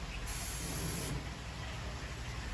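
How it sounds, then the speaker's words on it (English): Short, fairly quiet hiss of Pam cooking spray onto a grill before sausages go on, a steady aerosol spray lasting about a second over low background noise. "I always take some Pam and I do a little spray on the grill."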